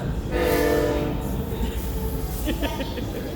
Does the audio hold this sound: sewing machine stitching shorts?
no